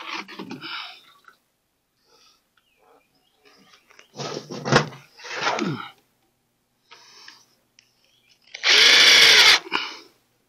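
A power drill drives screws into plywood while a kiln is being baffled, heard as several short, loud, close bursts of whirring separated by quiet gaps, with one longer final run.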